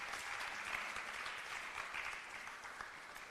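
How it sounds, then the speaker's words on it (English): A large symposium audience in Nigeria claps steadily to welcome a panelist, a dense, even wash of applause that holds at a constant level throughout with no voices over it. "Put your hands together for her."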